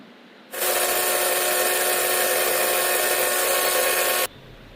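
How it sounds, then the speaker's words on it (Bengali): An electric mixer grinder blends grapes, salt and mint leaves, a loud steady whirring drone that starts abruptly, holds for nearly four seconds, then cuts off. "এবার এগুলো সব একসাথে আমি মিক্সিতে পিষে"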